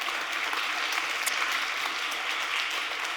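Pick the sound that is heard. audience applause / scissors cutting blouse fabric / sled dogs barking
audience applause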